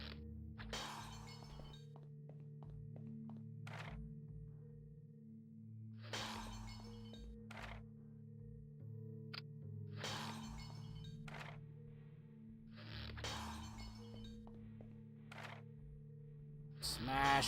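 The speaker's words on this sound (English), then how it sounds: "Smashing a bunch of windows." Windows smashed repeatedly in the video game LIT, sharp glass-shattering crashes arriving in bursts every few seconds over a constant low musical hum, fairly quiet overall.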